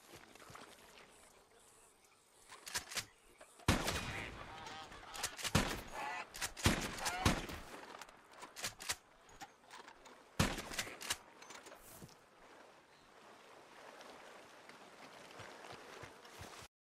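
A varmint rifle fires while hunting animals in the video game Red Dead Redemption 2, with a few sharp shots spread over quiet outdoor ambience and soft movement sounds.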